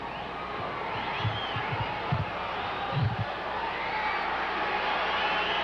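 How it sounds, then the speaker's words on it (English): Wrestling crowd hollering and cheering in an arena, a broad roar of many voices with a few thumping impacts around the middle, steady and fairly loud, mixed with some indistinct speech. "Crowd hollering."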